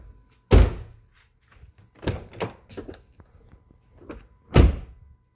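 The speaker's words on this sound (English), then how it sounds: "Let's compare the door closing sound." Doors on a Mazda CX-90 PHEV GT slam shut, three solid heavy thunks spaced a couple of seconds apart with softer latch clicks and rattles between, close and loud.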